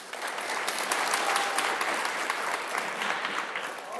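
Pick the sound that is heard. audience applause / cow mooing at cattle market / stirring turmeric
audience applause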